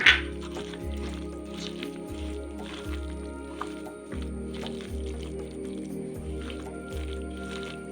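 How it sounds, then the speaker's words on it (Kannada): Tamarind juice is poured into a netholi fish curry and stirred in. The result is a soft, steady, rhythmic squishing and sloshing of liquid, repeating in regular strokes throughout without any talk. "ಒಂದು ಕಾಲು ಕಪ್ಪಿನಷ್ಟು ಹುಣಸೆ ರಸವನ್ನು ಹಾಕಿಕೊಳ್ತಾ ಇದ್ದೇನೆ ಇದನ್ನು ಕೂಡ ಹಾಕಿ ಚೆನ್ನಾಗಿ ಮಿಕ್ಸ್ ಮಾಡಬೇಕು"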